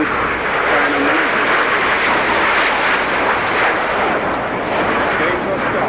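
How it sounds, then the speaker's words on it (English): Aermacchi MB-339 jet roaring past at an air show, a loud, continuous broadband jet rush that holds steady for the whole stretch without a break. "Watch the MB-339, a unique jet capable of doing this kind of maneuver."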